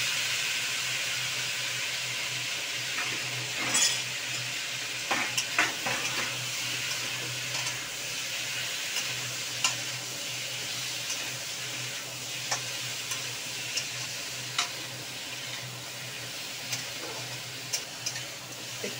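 Chickpeas, pumpkin and potato frying in a pan with little spice, giving a steady hiss of sizzle and steam with scattered soft clicks and taps of stirring throughout, close and fairly quiet.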